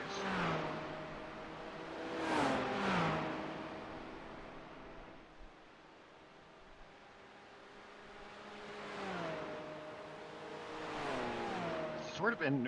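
Race cars from different classes circulate on a track, engines revving and rising in pitch as they approach and sweep past in several waves, some near and some distant, under continuous commentary.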